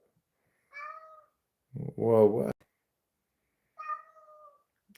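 A house cat meows close by in a quiet room: a short tonal meow, then a louder, longer drawn-out cry, and another meow a couple of seconds later, with a person speaking briefly in between.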